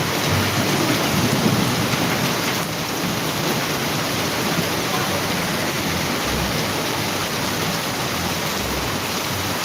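Heavy rain pours down in a loud, constant roar, with low rumbles of thunder rolling underneath.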